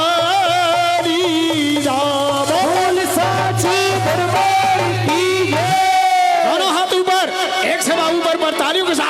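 A crowd at a devotional jagran roars a jaikara cheer, many voices shouting together over a steady musical drone, rising in loud, sustained waves of chanting.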